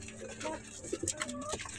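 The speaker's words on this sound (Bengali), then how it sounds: "সব কবুতরগুলো খাবার খাচ্ছে" Pigeons coo softly while feeding in their loft, a few brief low calls and light rustling at a modest distance, fairly quiet and short.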